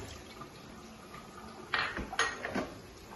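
A spoon clinks and scrapes against a container while stirring salt into water, a few sharp metallic knocks in the second half over quiet background.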